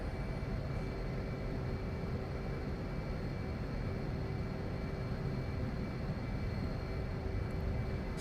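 An F/A-18 Hornet jet in the DCS flight simulator gives a steady, dense engine roar with a thin constant whine running over it, unbroken and evenly loud throughout.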